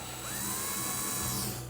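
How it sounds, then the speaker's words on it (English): Power drill boring a short way into the center of a wooden board for a modern wine rack: a steady, high whine running close and continuous, with a slight pitch shift near the end. "So I'm going to drill a little ways down right in the center of that"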